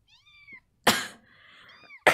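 A cat meows several times, drawn-out tonal calls close to the microphone, with a couple of louder, harsher bursts between them.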